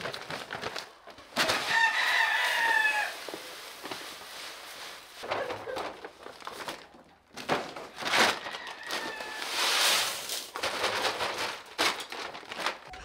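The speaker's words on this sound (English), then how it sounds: "It looks like all the chickens are in here already." Chickens cluck and a rooster crows inside a small-farm coop in Canada, close and busy, with rustling and footsteps among the birds.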